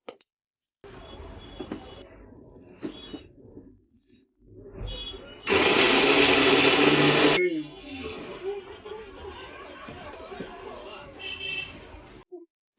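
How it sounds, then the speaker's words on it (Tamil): Kitchen mixer grinding ginger, garlic and coriander leaves into a fine paste: a loud, harsh whirring burst of about two seconds stands out amid quieter kitchen handling sounds and intermittent talking. "இத வந்து நல்லா ஃபைன் பேஸ்டா இப்போ அரைச்சு கொண்டு வந்துடலாம்."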